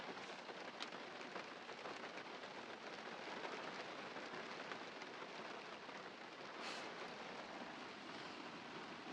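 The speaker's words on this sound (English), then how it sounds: "Here comes the rain. Can you hear it?" Rain falls outdoors as a steady, faint, even hiss with no voices, holding at a constant level throughout.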